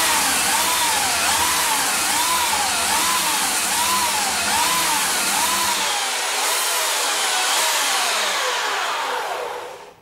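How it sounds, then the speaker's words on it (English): Belt sander running on painted furniture, a loud continuous motor whine with a sweeping, wavering pitch as it moves back and forth, low rumble cutting out partway before the tool winds down at the end. "But for me, belt sander. Just a little bit because it is noisy."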